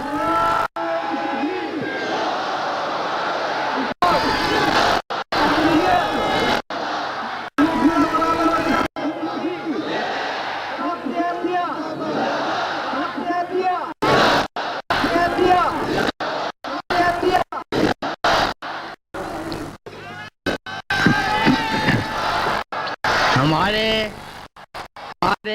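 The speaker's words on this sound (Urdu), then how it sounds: "آپ نعرے لگا لو تھوڑے سے دعا سے پہلے" A crowd shouting religious slogans before a prayer at a gathering: loud massed voices in rhythmic bursts, chopped by abrupt breaks and short silences, close and continuous.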